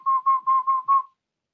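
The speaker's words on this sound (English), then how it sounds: "learn how to whistle with your tongue touching the L position." A warbling whistle made with the tongue held at the L position, heard as five quick, even pulses on a steady pitch, close and clear, then silence.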